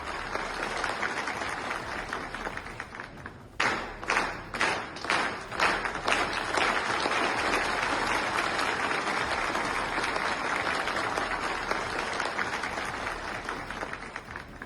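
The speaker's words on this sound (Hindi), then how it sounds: "हर वाक्य पर तालियां बज रही" Sustained, dense applause fills the joint session of the Ethiopian Parliament, with a run of sharper, louder claps near the start before settling into a steady roar of hands that continues throughout.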